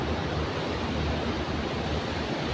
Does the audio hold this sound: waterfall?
yes